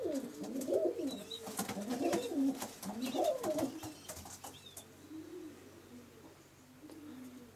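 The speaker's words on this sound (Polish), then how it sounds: "Samczyki zaczynają już pierwsze zabawy, gruchają sobie." Male racing pigeons in a breeder's loft coo in repeated low rolling calls, close and clear at first, then fading softer, with faint chirps and light rustling behind.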